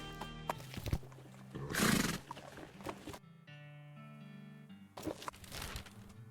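A cart horse whinnies loudly amid hoof clops and other sound effects in the video game West of Loathing, with a brief burst of music-like tones.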